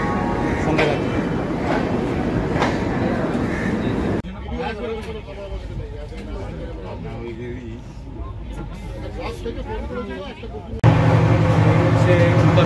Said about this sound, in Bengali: ছেড়ে দিল হাওড়া স্টেশন থেকে। 11 নম্বর প্ল্যাটফর্ম থেকে ছাড়লো।